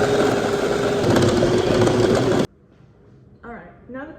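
An electric mixer whirs loudly and continuously as it beats sugar cookie dough, cutting off abruptly after about two and a half seconds, followed by a person speaking.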